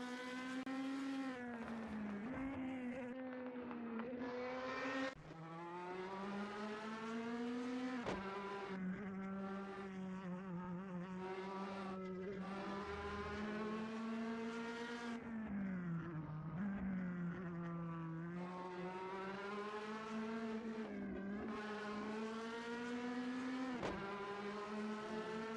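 DTM touring race car from the SimSpeed DTM Classics racing game howls through the Vidal chicane, engine note dipping and climbing steadily through gear changes, loud and close with no talk.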